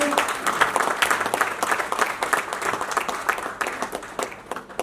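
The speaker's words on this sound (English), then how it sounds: "let's give them a big round of applause" Lively audience applause at a ceremony, many hands clapping in a dense, uneven patter that swells and dips, fairly close and loud, with no talk over it.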